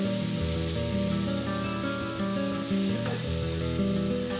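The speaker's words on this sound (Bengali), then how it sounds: "ম্যারিনেশনের যে সমস্ত মশলাটা সেটা তেলে দিয়ে খুব ভালোভাবে কষাবো" Marinade spices frying in hot oil, a steady loud sizzle with bubbling crackle running throughout, close and continuous with no voices.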